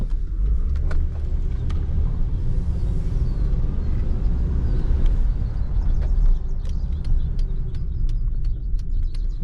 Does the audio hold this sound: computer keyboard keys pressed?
no